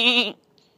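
A baby goat gives one short, loud, close bleat, followed by near silence.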